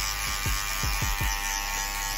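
Electric hair clippers fitted with a number 2 comb guard buzz steadily and close in a barbershop cut, with a continuous motor hum and several quick low sweeps as the blade passes through hair.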